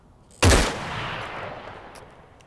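A single loud, close rifle shot in the VR shooter Onward, a sharp crack followed by a long fading echo, with no other sound around it.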